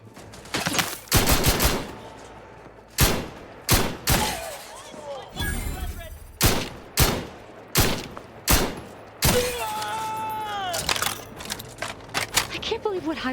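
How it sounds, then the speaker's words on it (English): Heavy gunfire in The Outer Worlds 2 on PS5, a rapid series of loud, punchy shots and booming impacts with ringing metallic tails, mixed with game effects and a voice speaking between bursts. "let's break out the big gun."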